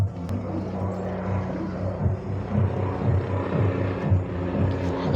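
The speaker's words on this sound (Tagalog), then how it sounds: "Helicopter." A helicopter passes overhead with a low, steady rotor rumble that stays prominent through the moment over faint household background noise.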